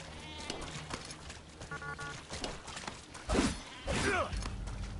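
Sheep in the video game Metal Gear Survive bleat several times in short, wavering cries, with the louder calls near the end, over game sounds and footsteps.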